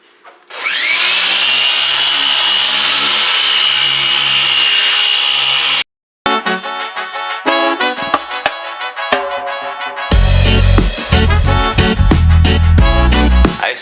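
A machine polisher with an orange pad and no product buffs the paint of a Mercedes-Benz GLC63 S AMG, giving a loud, steady high whine for about five seconds before it cuts to a busier, clattering mix of sounds.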